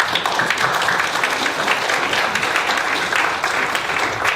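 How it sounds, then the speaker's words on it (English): An audience at a U.S.-China economic and trade forum in Chicago applauds. Crisp individual claps stand out within a lively, even burst that lasts around four seconds. "Please give Penny a round of applause."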